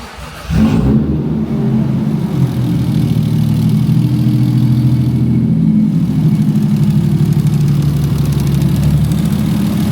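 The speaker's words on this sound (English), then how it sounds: "It sounds a little different now, the car. Like the exhaust note." A car engine idles steadily with a modified exhaust manifold, giving a deep, throaty low rumble that kicks in after a brief start and holds loud and close with slight revving swells, no talking.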